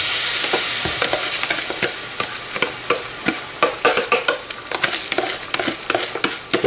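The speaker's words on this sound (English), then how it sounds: "Now we're going to go in with the rice." Rice tipped into a seasoned red tomato sauce for jollof fries in a hot pot, a steady sizzle broken by repeated sharp scraping strokes of a spoon stirring, close and busy with no voices.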